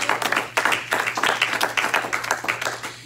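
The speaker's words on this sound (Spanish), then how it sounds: "¿Cuánto puede dar palmas en esta obra?" Church congregation at a Spanish-language service claps hands in a quick, fairly regular rhythm, a close group of palms striking together throughout.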